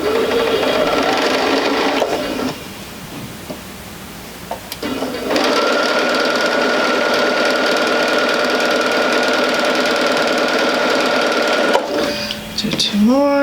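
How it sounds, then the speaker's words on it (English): A sewing machine stitches a quarter-inch seam joining fabric rectangles, running loud and steady up close with a brief slow-down partway through, then stopping near the end. "match up the notches, and go ahead and sew it 1/4"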